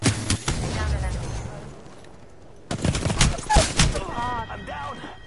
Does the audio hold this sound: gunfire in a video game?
yes